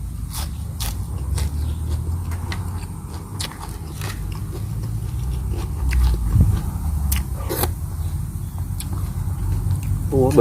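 Someone is eating sour fish soup with young galangal shoots, with close, wet chewing and slurping beside speech and bits of crunching throughout.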